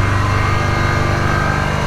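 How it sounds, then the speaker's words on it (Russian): An Air-zenith or Viair air suspension compressor runs at close range, giving a steady, dense mechanical buzz with a fast rhythmic pulsing that holds throughout. "Так, компрессор включился."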